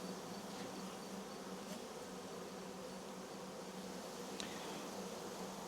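A honeybee swarm on hive frames during a first inspection after eight days of comb building, giving a constant, even buzzing hum that stays faint and steady throughout, with no voices.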